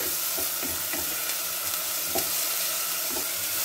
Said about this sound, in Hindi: उसी तरह से हमारे घर में जिंजर ऑनियन गार्लिक पेस्ट का फ्राई चल रहा है।